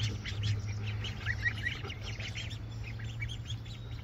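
Three-week-old ducklings near a pond chirp and peep in a busy, overlapping chorus at moderate distance over a steady low hum, with no talking.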